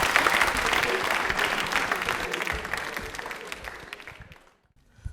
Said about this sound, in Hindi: ये लीजिए ताली बजाओ जरा इनके लिए